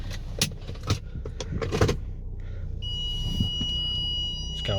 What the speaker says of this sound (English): It's going off because I don't have my seatbelt on